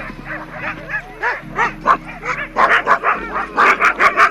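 Several working dogs bark and yip close by in quick, loud bursts that grow denser and more insistent toward the end.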